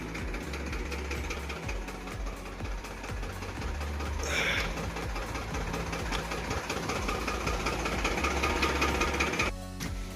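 A tractor engine runs steadily at idle in a field being ploughed, giving a continuous mechanical drone with a faint rhythmic knock. A brief clatter rises midway, and another noise shift comes near the end.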